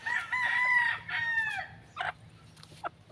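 A gamefowl rooster, a Gilmore hatch, crows loudly nearby in a long drawn-out call, followed by a few short clucks.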